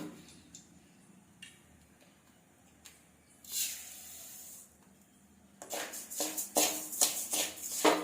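Rice rava roasting in ghee and oil in a pan for arisi upma, a soft hiss rising in bursts with light ticking and crackling that grows louder and denser toward the end.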